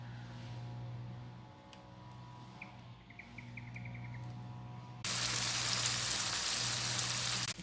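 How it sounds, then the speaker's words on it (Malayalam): Dried shrimp fry on a low flame: soft, steady sizzling that jumps to a loud, bright frying hiss partway through, over a low constant hum. "ചെറിയ തീയിൽ വേണം"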